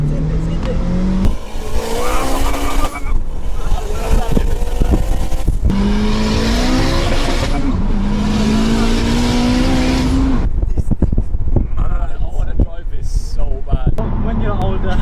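A 500 bhp Alfa Romeo with a ZF DSG gearbox accelerates hard, its loud, close engine note climbing repeatedly through quick gear changes, with voices present in the background.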